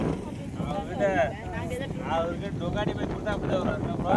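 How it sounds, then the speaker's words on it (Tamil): Strong wind buffets the microphone in rumbling gusts while someone talks in Tamil over it, his voice partly masked by the roar, in the Bandipur hills near Gundlupet, Karnataka. "ஏங்க காற்று தூக்குது, வரவே முடியல தெரியுமா?"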